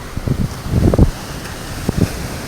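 Strong sea wind sweeps a shore under stormy, rain-threatening skies beside rough, heavy waves, buffeting the microphone in low rumbling gusts that swell around the middle and again near the end.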